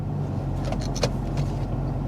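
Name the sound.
2000 Toyota Camry engine idling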